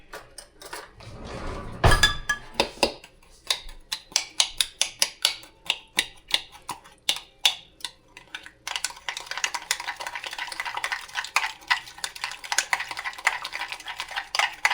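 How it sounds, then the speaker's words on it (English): Meatloaf ingredients with brown sugar are mixed in a bowl by hand with a utensil. Steady rhythmic clicks and scrapes knock against the dish and then give way to a denser, continuous stirring noise, with no talking. "Now let's mix that up."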